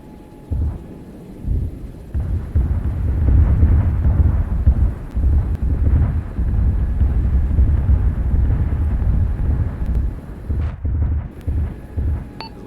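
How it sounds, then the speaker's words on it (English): Distant MLRS rocket explosions in a military video game roll in as a long, deep rumbling barrage, continuous low booming and crackle with wind-like noise, heavy but far away. "Significant explosion sounds like MLRS to the north, over."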